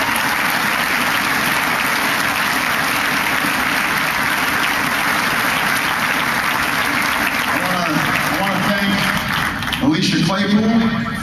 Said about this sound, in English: So please give Ted Sorensen a big round of applause.